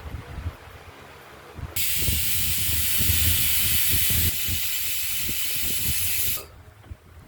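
A pressure cooker with masoor dal lets off a sharp, loud steam whistle that bursts in suddenly, holds for about four and a half seconds with a slight drop partway, then cuts off, over a bubbling cooking rumble; no talking.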